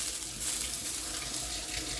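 Water splashing and sizzling as it is poured onto a hot dosa pan, a steady rushing hiss throughout, close and moderately loud.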